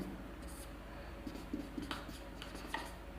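Writing on a board during a Hindi trigonometry lesson: faint, soft scratching strokes in short irregular bursts over a quiet, low room hum.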